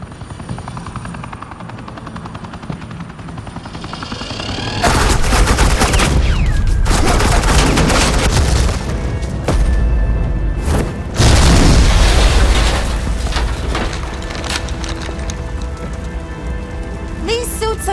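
Suppressing gunfire in a Batman video game, loud sustained bursts of automatic weapons fire with booming impacts, dense and continuous, layered over a rumbling helicopter-like drone in the background.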